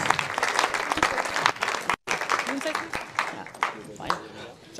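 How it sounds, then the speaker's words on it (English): Audience applause closing a 2020 talk on Black women's health, a steady wash of clapping with a brief dropout midway and chatter mixed in. "Big round of applause for"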